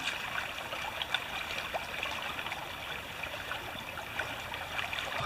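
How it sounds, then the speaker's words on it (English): Water runs steadily through a drop riffle sluice during gold prospecting over bedrock material, a continuous soft trickling and splashing flow that stays even and fairly quiet throughout, with no talk. "Put it in my pan and then run it through the drop riffle sluice right here."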